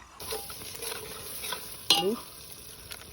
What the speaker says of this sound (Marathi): कांदा टाकलाय शिजायला